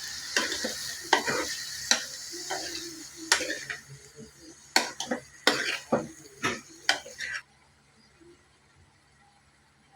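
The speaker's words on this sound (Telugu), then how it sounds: "మనం ఉడికించుకున్న క్యారెట్, క్యాలీఫ్లవర్ వేసుకుంటున్నాను ఫ్రెండ్స్. ఇలా వేసేసుకోవాలి. ఇలా కలుపుకోవాలి" Boiled carrot and cauliflower are stirred into a sizzling curry in a pan, with a series of close scraping and clattering strokes against a faint sizzle, then the stirring stops and only a quiet hiss remains.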